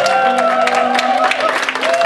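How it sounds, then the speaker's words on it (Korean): An audience applauds at a church music concert with loud, dense clapping that runs steadily throughout, with voices and sustained tones mixed over it. "박수입니다"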